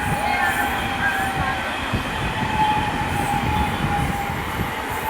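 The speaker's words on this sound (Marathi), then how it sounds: "हे बघा कॉलेजच्या पुरी आणि कडनं ट्रेन आले." Local train passing close by, a loud continuous rumble of wheels on rails with faint metallic squeals, and people talking over it.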